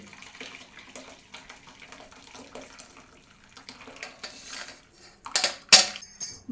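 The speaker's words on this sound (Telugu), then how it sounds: "ఇంకొక కడాయి పెట్టుకొని నేనైతే దీనిలోకి వడపోసుకుంటున్నానండి" Hot liquid is poured through a strainer from one kadai into another, giving a soft trickling splash that builds into louder metallic clinks and splashes toward the end, near and with no speech.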